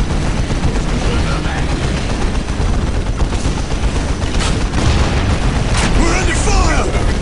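Battle in the real-time strategy game Dawn of War: Winter Assault: dense, continuous gunfire with heavy booms and bursts, loud and close, with game voices calling out over the fighting.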